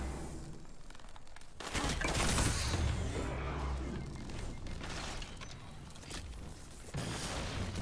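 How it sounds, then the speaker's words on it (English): Pulse grenade blasts in a Destiny 2 Crucible match, a dense crackle of repeated bursts and gunfire-like pops filling most of the stretch, loudest around the middle and again near the end. "Fucking pulse grenades"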